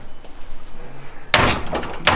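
A door is shut with a sudden loud thud and rattle after a quiet moment, followed by a second, smaller knock in a hotel room in Antalya.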